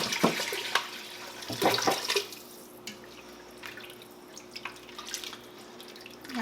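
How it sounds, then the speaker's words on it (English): Water is poured into an Instant Pot in a home kitchen, a few splashy bursts and drips followed by quieter trickles and small clinks, close and fairly soft. "And now I'm going to get some water to put in here."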